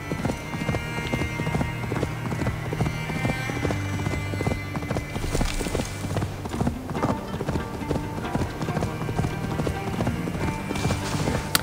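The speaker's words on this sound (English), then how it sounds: "And where the shit is my horse?" A horse in Assassin's Creed Valhalla gallops with a rapid, rhythmic clip-clop of hooves, steady and close throughout, with faint background game sounds.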